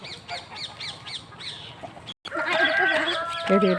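Busy hen-house chatter: many egg-laying hens clucking and squawking over each other, fairly close, with a brief gap before the chorus grows louder and denser.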